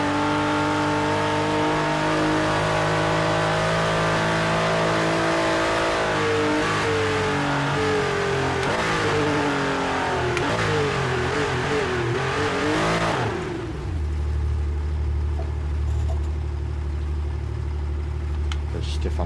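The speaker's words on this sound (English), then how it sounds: "I don't know why this car's all of a sudden louder than the rest of them" A loud car engine in a racing video game revs up and down in rising and falling sweeps for several seconds, then drops to a lower steady drone.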